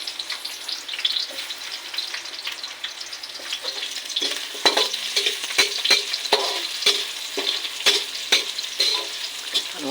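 Onions fry in a pan for chicken tinola, a steady close sizzle broken by irregular clacks and scrapes of stirring that grow busier toward the end.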